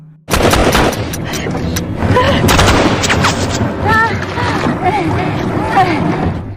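Film gunfire as a rifle is fired at a man near water: loud, rapid cracks and booms open a dense, noisy action mix, with speech running over it.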